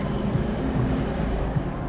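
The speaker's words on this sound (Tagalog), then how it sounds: "Pati na lang malakas tong makina ng sasakyan." A vehicle engine drones steadily as it climbs a steep mountain road in the northern Philippines, a dense low rumble with road and wind noise, constant and fairly loud, no voices.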